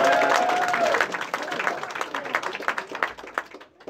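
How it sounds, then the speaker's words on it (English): A round of applause for a man named Sam at a wrestling contract signing press event, brisk clapping from a small room of people with a brief whistle or cheer at the start, tapering off toward the end. "Round of applause for Sam."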